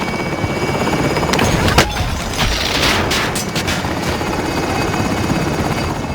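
A helicopter in a first-person shooter hovers with a steady rotor roar, while sharp bursts of gunfire and a few booms crack through it.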